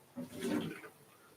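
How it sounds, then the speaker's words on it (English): A little water sloshes and swirls briefly while a coffee brewer is rinsed out, a soft, short wash of liquid rising and fading within about a second, fairly faint and close. "basically I'm just going to rinse that out"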